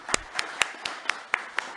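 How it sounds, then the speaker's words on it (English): Sparse, evenly spaced claps ring out in a hall as a small audience welcomes the host and producer to the podium at a Ramadan quiz award ceremony, about eight sharp hits with quiet gaps between them. "With a round of applause, I would like to welcome our host and producer"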